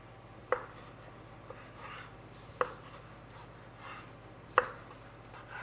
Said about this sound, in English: we're just going to start cutting it in little dices